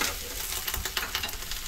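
Mixed vegetables frying in a pan for veg Manchurian gravy, a steady close sizzle with faint stirring scrapes running throughout, no talking.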